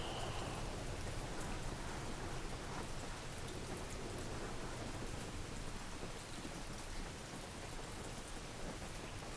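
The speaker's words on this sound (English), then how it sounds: "Listen to the rain." Steady rain pours down throughout, a dense continuous patter at even loudness with a low rumble beneath, like a heavy downpour or storm, with no voices.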